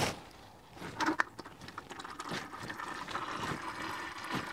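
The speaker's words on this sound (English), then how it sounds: "So let's go ahead and drain the fluid." Transfer case fluid drains from a Toyota into a catch can, a steady pouring trickle that rises in the first seconds, then runs on continuously at close range.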